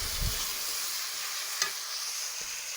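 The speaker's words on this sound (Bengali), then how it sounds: "আদা রসুন পেঁয়াজ একসঙ্গে বাটা ছিল সেটা দিয়ে দিলাম, দিয়ে এটা ভালো করে কষিয়ে নিতে হবে।" Ginger, garlic and onion paste sautéing in a pan, a steady soft hiss of frying running throughout, with one brief stir or scrape near the middle and no voices.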